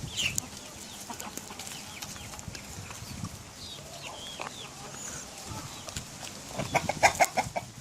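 Backyard chickens cluck in several scattered bursts amid rustling and a few sharp taps, fairly close, with a livelier cluster of louder clucks near the end.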